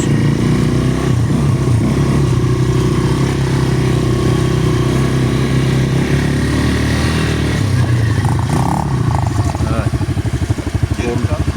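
An ATV engine revs loudly and steadily as the throttle opens on a rough forest trail at night, a continuous close mid-pitched roar with a slight dip near the end.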